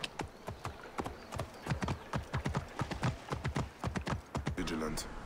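Horse hooves clip-clopping in Assassin's Creed Origins, a rapid, steady run of hoofbeats at moderate level, with someone talking over part of it.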